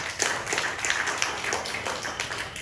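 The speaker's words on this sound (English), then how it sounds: "let's give the Lord a hand clap of praise" Church congregation clapping hands in praise during a worship service, a steady moderately close patter of many hands with faint voices mixed in.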